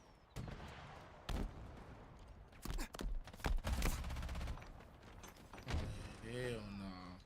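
Video game gunfire cracks out in sharp separate bursts, a few single shots then a cluster of rapid blasts, loud and close, with a voice talking between them.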